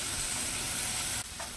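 Ribeye steaks sizzle on a Blackstone griddle, a dense, steady hiss of spitting fat that holds loud and close, then briefly drops away near the end.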